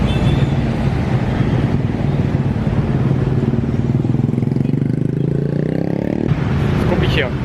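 Busy Indonesian street traffic full of scooters and cars: a dense, continuous, close engine roar with rising revs from passing motorbikes and a sharp higher tone near the end.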